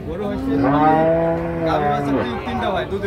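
Holstein Friesian dairy cows at a rural cattle market in Parbatipur, Dinajpur, let out loud, drawn-out moos that overlap one another nearby, with a second lowing call following close behind.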